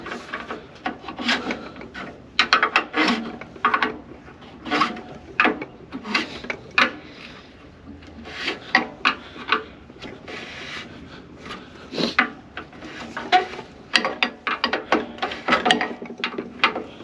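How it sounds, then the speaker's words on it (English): A screwdriver tightens a threaded fitting on a Pentair pool heater, giving repeated sharp ratcheting clicks and scraping twists in irregular bursts, close and fairly loud, with no talking. "I can use my screwdriver that I was using to go ahead and finish tightening this up"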